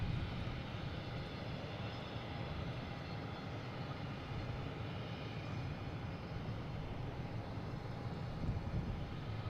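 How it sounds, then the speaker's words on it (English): A Delta Embraer E175 jet arriving at Boston Logan gives a steady, fairly faint engine roar that holds evenly throughout, with no talk. "We have Delta E175 coming from Charlotte"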